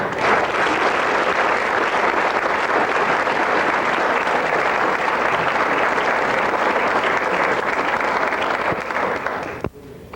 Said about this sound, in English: I'd like you to give them a round of applause